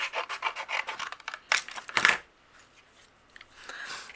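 A paper sentiment panel for a handmade card is trimmed, giving a run of quick scraping, rasping cuts followed by two sharper slicing strokes, then near-silence with faint light handling.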